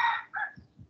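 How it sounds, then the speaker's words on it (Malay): A village chicken gives two short sharp squawks, followed by a few low clucks, up close and with no other sound around it. "Tu yang dengar bunyi ayam."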